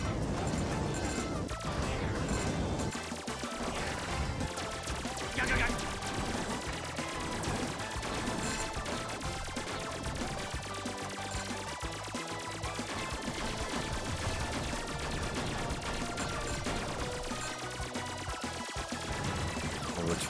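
Rapid bursts of synthetic gunfire crackle continuously over a dense, busy soundtrack in the video game Bakeru.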